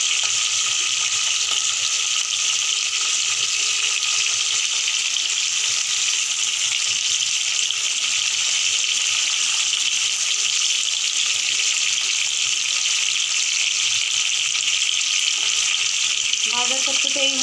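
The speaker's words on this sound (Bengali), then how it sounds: "দেখো এখানে আমি মাছগুলো ভাজা করতে দিয়েছি, আর ভাজা হচ্ছে।" Pieces of rohu-type fish frying in hot oil in a pan for a spicy fish curry, giving a loud, continuous close sizzle that holds steady throughout, with a brief clink near the end.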